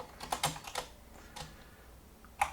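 Soft, close keystrokes on a computer keyboard while writing Python code, a quick cluster of clicks followed by sparse single taps in a quiet room.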